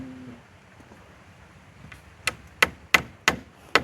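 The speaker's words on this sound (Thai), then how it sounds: "เอาไม้อันนี้มาตอกเป๊ะ" Wood being hammered while building a kitchen house, five sharp, evenly spaced knocks ringing out close after a quiet stretch of outdoor background.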